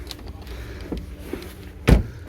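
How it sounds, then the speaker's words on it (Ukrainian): A Volvo's door shuts with a single solid thud near the end, close by, over a low steady background of a used-car lot. "ви закриваєте дверцята, тут відчувається, що воно добротно, це все-таки Volvo"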